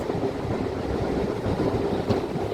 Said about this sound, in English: the train is giving us the bumps